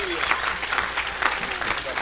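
Applause breaks out at a church mission service, a steady patter of many hands clapping with voices talking and calling over it throughout.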